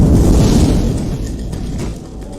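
A gasoline fire igniting in a film scene bursts out as a loud, roaring whoosh that swells at once, then rumbles on for about two seconds before easing off slightly.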